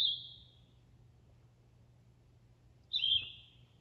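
Two short, high, buzzy calls from a yellow-throated vireo, one at the start and one near the end, separated by quiet, fairly clear and alone over a faint low hum.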